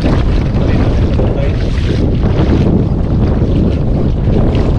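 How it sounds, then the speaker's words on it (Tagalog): Strong, steady wind buffets the microphone on open water during kayak fishing, a constant low roar and rumble, loud and unbroken throughout, with a faint watery wash beneath. "medyo lumalakas na yung hangin"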